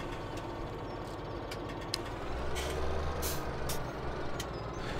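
Tractor engine rumbling steadily as it drives in Landwirtschafts-Simulator 17, with a low drone that swells slightly midway and a few brief air-brake-like hisses on top, no talking.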